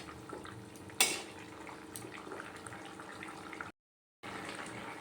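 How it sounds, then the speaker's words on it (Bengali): Fig kofta curry simmers in a pan, giving a soft, low bubbling hiss with a few light clinks of a utensil against the pan, quiet and close, briefly cutting to silence near the end. "এবার এই কোপ্তাগুলো দিয়ে একটু ফুটিয়ে নেব।"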